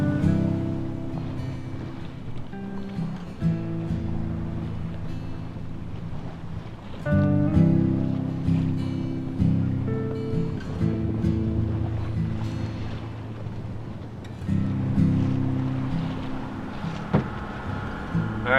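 A sailboat runs through waves in a channel, with steady rushing water and wind buffeting a close microphone, plus a low hum and occasional louder surges of spray, and no one speaking.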